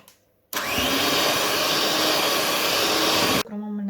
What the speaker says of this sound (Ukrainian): І все потрібно збити міксером.